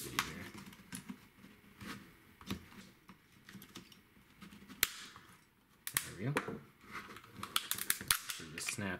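A plastic lithium battery pack case for a DIY 12V build snaps open with sharp plastic cracks and clicks, several brief snaps scattered through handling noise, close and fairly quiet.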